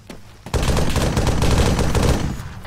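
Sustained automatic gunfire in Arma 3 during a friendly-fire incident, a loud dense burst of overlapping shots starting abruptly and rattling on without pause.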